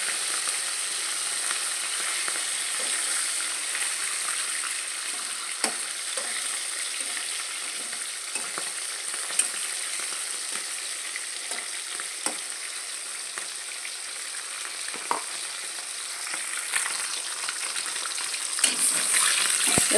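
Fresh rohu fish fries lightly in a pan, a steady bright sizzle of oil running throughout, broken by occasional soft clicks and scrapes of stirring.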